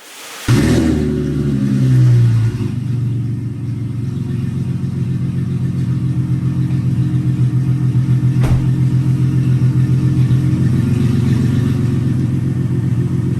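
A Mercedes-Benz C350 engine starts with a loud burst and settles into a deep, throaty idle with a rumbling exhaust, steady and close for several seconds.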